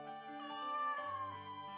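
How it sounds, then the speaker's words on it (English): Cat meowing in a visual novel video game: a soft, drawn-out meow with a rising and falling pitch, then a second shorter meow. The sound is close but quiet. "Meow? Meow."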